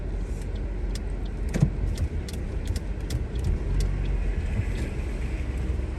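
Car driving through suburban streets in Belmont, Western Australia, heard from inside the cabin as a steady broadband road and engine rumble with faint ticking and rattles, no voices.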